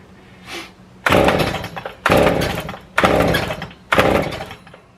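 A repaired Stihl chainsaw, which runs rough and stalls, is warm-started without choke. It gives four loud, rasping pull-cord bursts about a second apart after a softer first tug, and the engine never catches.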